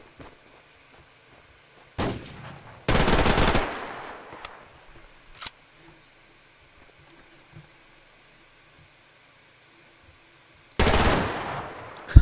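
Weapon fire from the online shooter game Survarium comes in several sharp, loud bursts: a short rattle, a longer heavy volley, a single crack, then another burst at the end, with near-silence between them.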